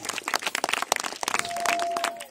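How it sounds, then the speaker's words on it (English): Scattered applause from an audience at a school prize ceremony, fairly faint and uneven clapping with a brief tone near the end. "We can clap"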